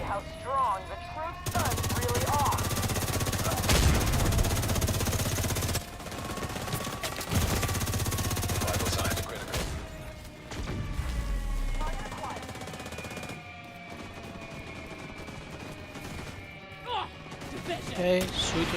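Bursts of automatic gunfire and heavy weapon fire in a Division 2 raid firefight, loud and sustained in several long volleys, with team voices calling out over the shooting.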